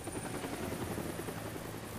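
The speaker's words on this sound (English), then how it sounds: "That's the helicopter chasing my friends." A helicopter in the video game Deadlight roars steadily with a dense, loud rotor and engine wash that fills the short stretch without pause.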